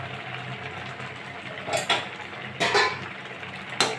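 A metal lid is set onto a cooking pot while shukto simmers with lau, potato, bitter gourd and prawns. A few short clanks and clatters sound close by over a low bubbling cooking hiss, with no talking.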